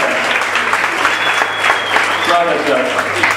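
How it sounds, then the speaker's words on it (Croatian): A pub audience in Zagreb applauds a man at a comedy show, with close, sustained clapping throughout and a few voices and murmurs rising through it. "Česti dame, aplauz za gospodine."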